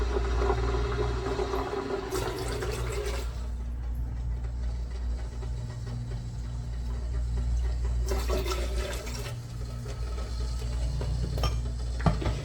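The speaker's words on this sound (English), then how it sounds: "So to this, I'm going to add 1 cup of vinegar." Vinegar being poured into leftover pickle brine in two splashing bursts, over a steady low background hum.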